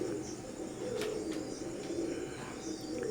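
Soft cooing of Teddy pigeons rises and falls steadily over a constant background hum, with a few faint chirps and clicks mixed in.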